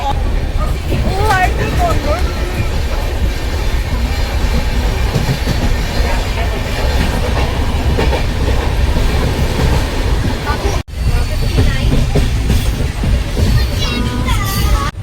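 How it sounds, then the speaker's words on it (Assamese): A passenger train rolls slowly on the run from Guwahati toward Varanasi, its steady rumble and wheel clatter continuous and close throughout, with voices and bustle mixed in and a brief dropout near the end. "ট্ৰেইন লাহে লাহে চলি আছে"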